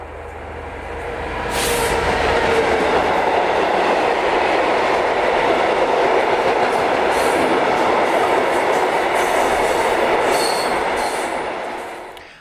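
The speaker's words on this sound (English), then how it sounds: "maritime blue liveried 66148 is working hard as she crosses the magnificent Keam Viaduct" A maritime blue Class 66 diesel locomotive, 66148, works hard hauling a freight train across the Keam Viaduct in winter, its loud, steady engine roar and rolling wagon noise holding throughout before easing off at the end.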